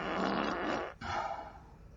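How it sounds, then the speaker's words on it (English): A Google Home speaker plays a hard fart sound effect: a loud, raspy, sputtering blast that breaks off briefly, then resumes as a second rough burst trailing away, with no talk over it. "Here comes a pushing hard fart."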